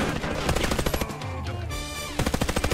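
Rapid automatic AK-12 rifle fire in Warface, loud bursts of rattling shots with a brief lull in the middle before firing resumes.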